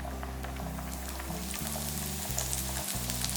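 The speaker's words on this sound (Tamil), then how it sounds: "ஒரு இனுக்கு கருவேப்பிலையை எடுத்து நல்லா பிச்சுட்டு போட்டுக்கலாம்." Curry leaves, torn by hand, crackle and sizzle in hot oil while cooking with raw plantain for a crispy fry, a steady close frying hiss over a low hum with no talking.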